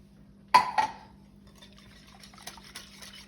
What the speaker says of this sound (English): I use that whisk to mix the water up.